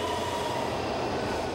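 A Washington DC metro train rumbles steadily at a distance, producing a continuous low roar with faint wheel noise and no voices.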